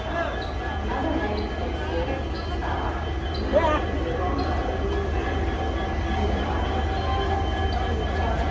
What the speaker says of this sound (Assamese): 7ত ট্ৰেইন ৰখি আছে